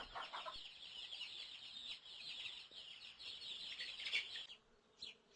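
A chicken clucks quietly in short bursts against a faint buzz of insects.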